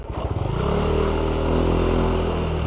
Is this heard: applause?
no